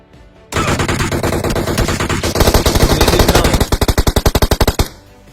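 Gunfire in the PUBG video game: a loud sustained burst of automatic fire that breaks into rapid distinct shots toward the end, close and intense with no talking.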